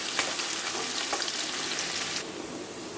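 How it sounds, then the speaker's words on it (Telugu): Onions frying with mustard seeds in a pan, giving a dense, steady close sizzle with a few soft stirring scrapes, loud and continuous with no voices. "ఇది బాగా ఫ్రై అయ్యేదాకా కలుపుకోవాలి।"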